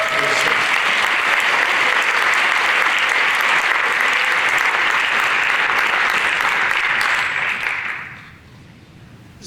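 Sustained applause from a high school band concert audience in an auditorium, a dense steady clatter of many hands for about eight seconds before quickly tapering off into quiet room tone.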